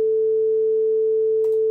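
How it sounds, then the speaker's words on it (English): A pure, steady electronic sine tone from a basic sine oscillator in Unreal Engine MetaSounds holds at one constant pitch throughout, smooth and unchanging, with a brief faint click near the end. "Basic sine wave. That's the foundation for our theremin"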